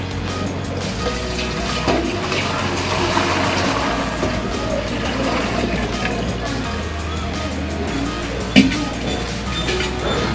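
Hot water is poured over two slaughtered native country chickens (nattu koli) to clean them, a running, splashing flow with occasional metallic clinks while people talk nearby.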